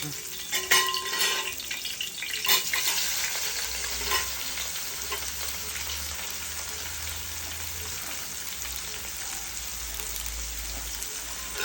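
Onions frying with spices in a pan, a steady close sizzle with stirring scrapes throughout, louder at first and then settling into a constant hiss.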